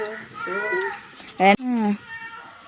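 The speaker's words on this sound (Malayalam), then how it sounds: "പൂച്ച നിലവിളിക്കുന്ന" A cat meows several times, a drawn-out, wavering cry with a sharp click partway through, close and moderately loud.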